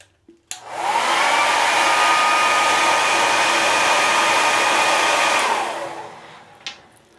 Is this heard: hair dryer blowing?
yes